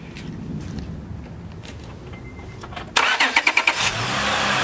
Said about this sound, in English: So now I'm gonna start the car.